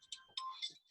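A phone ringtone chirps in short bright bursts with steady tonal lines, fairly clear and close, with no talking over it.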